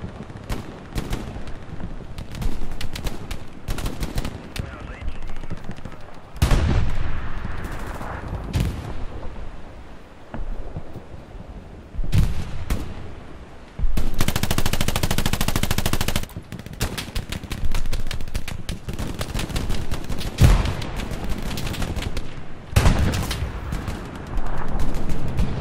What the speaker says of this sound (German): Das ist halt nur Geballere.